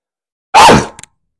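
A single sharp human sneeze, close and loud, bursting suddenly out of silence and fading within a moment, followed by a couple of faint clicks.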